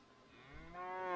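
A cow in the video game Medieval Dynasty lets out a single low moo, drawn out and rising in strength toward the end, with no talk over it.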